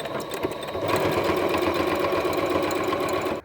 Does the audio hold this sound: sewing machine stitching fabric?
yes